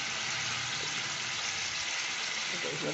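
Brinjal sizzles steadily in a hot pan with tomato sauce while being sautéed for a sweet and sour dish, a loud, even hiss that continues without a break.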